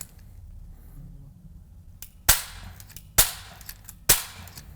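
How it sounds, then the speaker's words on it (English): A staple gun fired three times, each a sharp, close snap with a quick decay, spaced about a second apart after a faint click, over a quiet room hum. "I've never felt more awkward shooting a staple gun."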